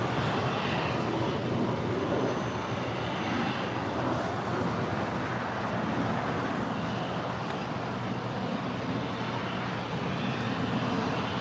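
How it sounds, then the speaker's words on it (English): A JSX ERJ 135 LR regional jet arriving at LAX, its engines a moderate, even roar mixed with wind rush that holds steady throughout, with no talking. "JSX Flight 322 coming in from Las Vegas. It's an ERJ 135 LR."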